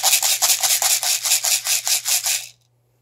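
A homemade maraca made from a small container or jar shakes in a steady, quick rhythm of gritty rattling bursts, close up, for a couple of seconds before stopping abruptly.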